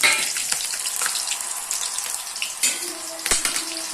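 Onion and green chilli dropped into hot oil in a pan for a fish curry, a close hissing sizzle with bursts of crackle and a couple of sharp clinks.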